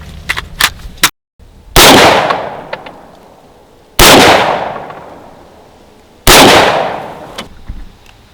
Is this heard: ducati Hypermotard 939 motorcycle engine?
no